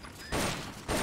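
Two heavy gunshot bursts ring out during shooting practice in Metal Gear Solid: Peace Walker, each a loud broadband blast with a lingering tail, spaced about half a second apart.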